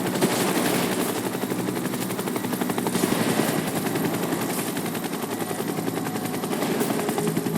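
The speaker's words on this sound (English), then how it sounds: "A helicopter." A helicopter in the video game Final Fantasy VII Rebirth gives off a steady rapid thumping rotor chop that stays at a constant moderate loudness throughout, with no voices.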